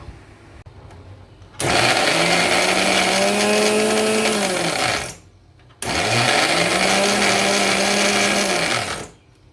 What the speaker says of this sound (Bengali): নিয়ে এটাকে আমি ব্লেন্ডারে কিমা করব।